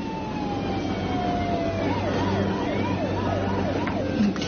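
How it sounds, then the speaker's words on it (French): An ambulance siren sounds steadily throughout, its wailing tone sweeping up and down in a regular rhythm, fairly loud and present over a low background rumble, with no one speaking. "C'est l'ambulance qui arrive."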